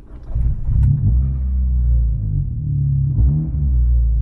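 A Peugeot 106 S16 engine turning over with difficulty and catching, its deep rumble swelling and sagging unevenly before settling into a rough, steady idle close by.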